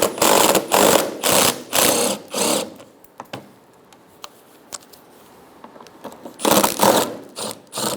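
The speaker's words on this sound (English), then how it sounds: "Remove the three 10mm bolts." Ratchet on 10mm bolts of an Infiniti G35 inner front fender liner: loud, close rapid clicking in several short bursts, then quiet handling clicks, then another clicking run near the end.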